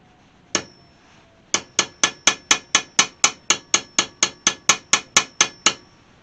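A hammer strikes stainless steel hood trim from a 1968 AMX on an anvil, one ringing blow followed after a pause by a steady run of about eighteen sharp metallic hits, close and loud, each with a short bright ring.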